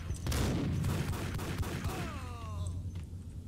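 Gunfire in the video game Max Payne, a dense burst of shots at the start fading into echoing reports and a rising whine, with no voices.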